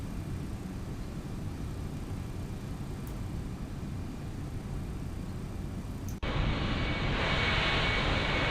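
A UPS MD-11 jetliner takes off in the X-Plane 12 flight simulator, with a steady broadband jet-engine roar that suddenly grows louder and brighter near the end. The sound is continuous and fairly distant, and no one speaks.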